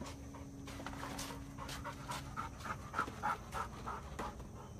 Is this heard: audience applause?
no